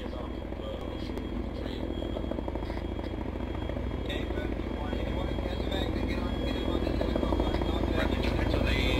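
A military helicopter in a combat video game gives off a continuous rotor and engine drone that grows slightly louder. Voices talk over the radio beneath it.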